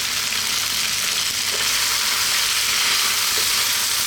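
Turmeric, coriander, chili and cumin powders frying in a pot for beef potato curry, a loud, steady hissing sizzle with occasional stirring scrapes.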